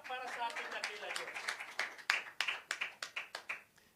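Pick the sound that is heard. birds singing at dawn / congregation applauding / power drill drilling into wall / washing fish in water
congregation applauding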